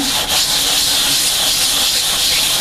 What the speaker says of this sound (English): I just rub it around a little bit over my sandpaper, and after a couple of minutes it just takes the rough edge off of here.